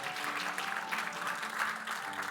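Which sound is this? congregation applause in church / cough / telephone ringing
congregation applause in church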